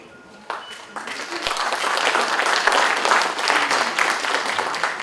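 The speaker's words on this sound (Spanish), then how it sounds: "Le vamos a dar un aplauso a Tatiana" An audience applauds at a forum on energy policy as speaker Tatiana is welcomed, a dense, steady wash of clapping that swells after a quiet start and holds loud and continuous.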